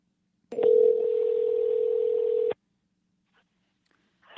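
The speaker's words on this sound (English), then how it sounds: "Let's see if we can get Dan on the phone here" A steady telephone dial tone rings out clearly for about two seconds while a call is placed to a guest on a live show, then cuts off into near silence.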